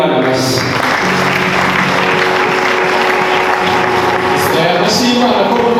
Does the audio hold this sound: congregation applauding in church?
yes